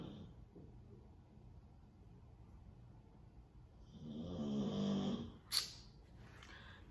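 Loki, a pet, snoring loudly and deeply, a long rumbling breath swelling in the middle of the stretch and then trailing off, with a short sharp snort right after, all close by in a quiet room.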